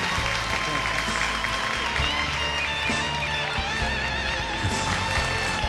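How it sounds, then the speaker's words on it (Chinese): Studio audience applauding to wish a couple happiness on a Chinese relationship-mediation TV show, steady dense clapping that fills the whole stretch, with a host's voice and music mixed underneath. "来，掌声祝他们幸福吧！"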